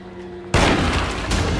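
A sudden loud burst of gunfire in the Alone in the Dark remake (2024) erupts after a brief quiet hum, continuing as a dense, booming barrage.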